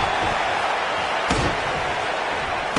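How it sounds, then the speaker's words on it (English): A single heavy body-slam thud lands about midway through a WWE 2K19 wrestling match, cutting through a steady, loud roar of arena crowd noise that fills the rest of the clip. "he just slammed him with ease"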